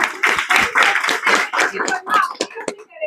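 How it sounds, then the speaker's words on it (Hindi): Audience members clap their hands at a devotional gathering in a series of uneven, close bursts, mixed with a person talking. "अपने हाथ से एक बार ताली बजाइए।"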